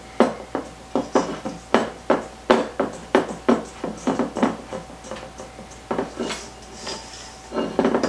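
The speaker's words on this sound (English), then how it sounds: "Just keep scraping in all that flour." Repeated scraping strokes of a utensil against a bowl, working flour into shortbread dough for apple shortbread bars, close and fairly loud with a steady, uneven rhythm of about a dozen distinct scrapes.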